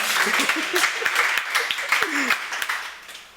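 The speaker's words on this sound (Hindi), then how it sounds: "ताली वाली बजा दो यार, कंजूसी कर रहा है।" Scattered, fairly thin clapping from a small audience at a Hindi poetry open mic, tapering off within a few seconds, with a voice and a chuckle heard over the claps.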